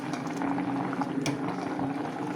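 A pot of sorrel-leaf greens curry bubbles steadily at a rolling boil, a close, continuous wet gurgling and popping with no voices.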